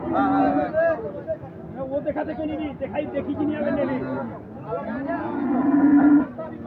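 A Friesian bull at the Ambari cattle market lets out several long, loud moos at close range, the last one rising and swelling, while people chatter and haggle around it.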